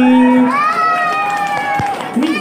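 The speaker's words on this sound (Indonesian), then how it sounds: "Kasih tepuk tangan dong buat Navy." At a Mega Bekasi dance-cover stage event, the crowd shouts and cheers in high, sustained voices for a group, with scattered claps and a few sharp hits mixed in.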